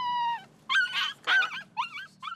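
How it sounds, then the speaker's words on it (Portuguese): Belgian Malinois police puppy whimpering while held in someone's arms: a long drawn-out whine followed by several shorter rising whimpers and yips, close and clear, with no talk over it. "no colo, um pouquinho agitado, né, chorando, quer ir pro chão"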